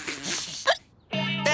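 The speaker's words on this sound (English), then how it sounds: "Oh, these hiccups are ruining me day!" A single sharp hiccup bursts out amid short vocal sounds from a character.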